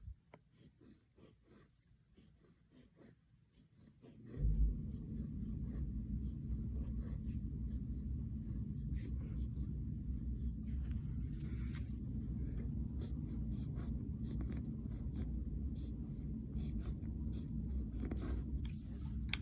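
A pen draws boxes on paper during a math lesson, starting with faint scratchy strokes and then a louder continuous rough scribbling that lasts about fifteen seconds, close up with no talking.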